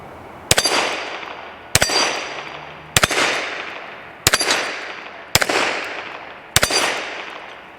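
Six loud, sharp gunshots from a Kimber Longslide Target 10mm pistol, fired at an even pace about a second apart, each with a ringing echo fading out, close by and with no voices.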